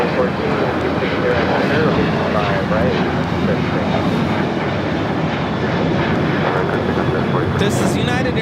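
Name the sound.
United Airlines Boeing 737-800 taking off at LAX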